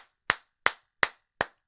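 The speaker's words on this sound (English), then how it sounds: "I would stand up and I'd clap." Hand clapping, four sharp, evenly spaced claps sounding close and alone with silence between them.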